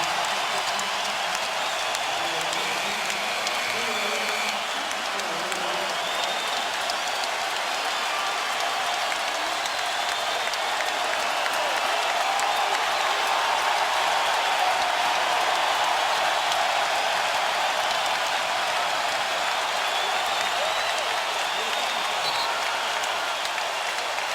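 Basketball arena crowd at the 2012 NBA Finals, Miami Heat vs. OKC, roaring and applauding without a break for Dwyane Wade and LeBron James leaving the game, a dense, even wall of cheers under a commentator's voice.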